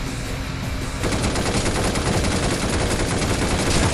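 Sustained automatic gunfire rattles against police in Binary Domain, a dense loud fusillade that intensifies after the first second and continues without pause.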